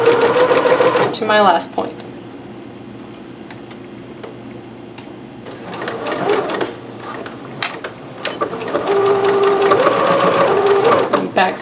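A sewing machine runs along a chalk line on a Simplicity 8448 garment in a few sustained whirring bursts separated by pauses and ticking clicks, with a voice speaking briefly in between.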